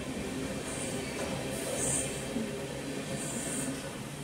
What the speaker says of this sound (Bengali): এটা হচ্ছে পদাতিক সুপারফাস্ট এক্সপ্রেস, যেটা টাইম আছে মির্জাপুরে 7:30টার সময়। এই মুহূর্তে ছেড়ে দিয়েছে